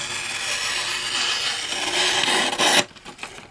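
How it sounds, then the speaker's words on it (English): A knife edge being sharpened gives a steady, loud rasping scrape for nearly three seconds, then stops abruptly. A few faint strokes follow. "The sound changes as you sharpen the knife because the bevel edges"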